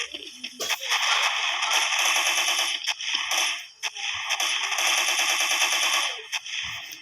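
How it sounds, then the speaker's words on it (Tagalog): A Gatling gun fires in the video game Special Forces 2, sending out long bursts of rapid, rattling shots close and loud, broken by a few short pauses. "naganda ng Gatling gun guys"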